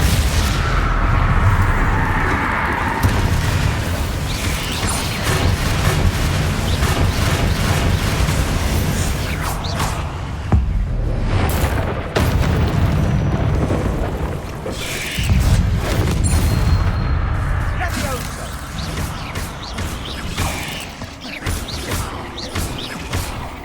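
Repeated Incendio and Confringo spell blasts in the Hogwarts Legacy video game, loud booming and crackling bursts in a dense, continuous game soundscape with several surges over the span.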